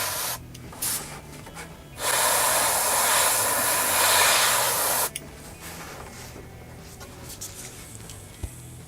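An airbrush sprays paint onto an AT-ST miniature model in a steady hiss of about three seconds, framed by quieter clicks and handling noises before and after.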